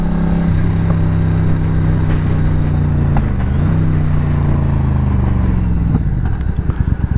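A Triumph Bonneville America motorcycle engine idles and revs nearby with a throaty rumble, a few faint pops from the exhaust as the throttle eases off.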